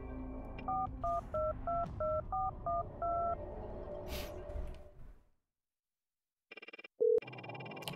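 Telephone keypad dialing during a home-invasion crime game: a quick run of about nine touch-tone beeps, then silence, followed by a brief ringback tone as the call goes through to police.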